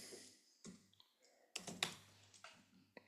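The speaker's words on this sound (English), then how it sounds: "If I type in just fam here" Keys on a computer keyboard are typed in short, quiet bursts of clicks, close and sparse, with gaps of near silence between the keystrokes.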